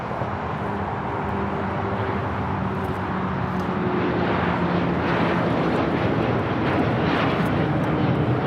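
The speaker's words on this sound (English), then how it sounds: "is the LL Dreamliner now taking off here on the south side" A Boeing 787 Dreamliner takes off from the south side of Los Angeles International Airport, its jet engines a steady, loud, broad roar that builds slightly over several seconds, heard alone without talk.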